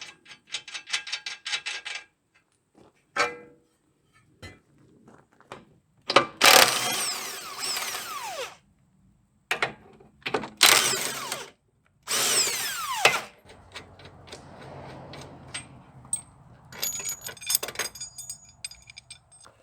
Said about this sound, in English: let me get these nuts and bolts out of the way